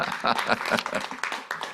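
A short burst of audience clapping at a year-end conference for overseas Koreans, individual claps distinct and uneven over under two seconds, moderately close.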